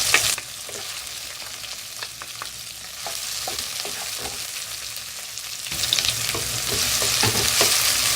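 Tomatoes frying with onions and green chillies in a pan, a steady close sizzle broken by light stirring taps, louder and fuller in the last couple of seconds.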